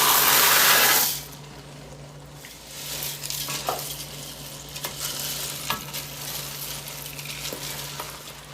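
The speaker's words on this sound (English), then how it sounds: "This is the part where we mix in some pasta, a pound of it, in fact." Pasta, a pound of it, stirred into chili in a cast iron pan, giving soft scraping and wet sizzling stirs after a brief loud burst at the start, with sporadic clacks of the utensil.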